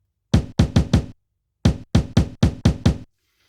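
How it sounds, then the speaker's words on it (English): Punchy kick drum one-shots chopped from a break on an Akai MPC, struck in two bursts of four and six evenly spaced hits with short decays and silent gaps between. "we're going to start with a kick"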